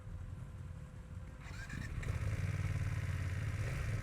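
A BMW F 900 R motorcycle's parallel-twin engine cranks and fires up partway through, settling into a steady, loud idle rumble that continues to the end.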